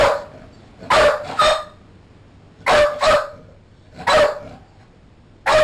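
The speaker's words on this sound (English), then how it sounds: "Still having the odd bark, still having the odd scratch." A caged dog barks in repeated short bursts, about five separate barks spaced a second or more apart, close and fairly loud, with quiet pauses between them.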